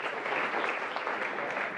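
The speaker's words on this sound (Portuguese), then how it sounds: "pedi também uma salva de palmas para o João Castro Pinheiro" An audience applauds a speaker at a presentation, producing dense, steady clapping that fills the whole short stretch at an even, moderately loud level with no voices above it.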